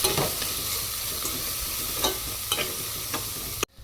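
Onion and prawn shells dusted with turmeric get stirred in a hot pan for a prawn-shell mixed vegetable curry, a steady close sizzle broken by several sharp scraping strokes of the spoon, ending abruptly.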